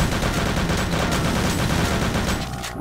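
Rapid bullet gunfire in a Doom mod shooter, a dense, loud stream of shots that rattles continuously for nearly three seconds before cutting off.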